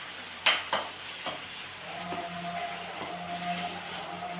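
Tomato, green chili, onion and ginger-garlic sauté in a pan for egg gravy. A soft, steady sizzle runs under a few sharp clinks of a spoon stirring against the pan, with no talk.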